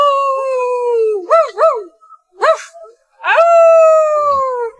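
In a film scene, a voice imitates a dog over a radio with loud, close howls and short yipping barks, separated by brief pauses.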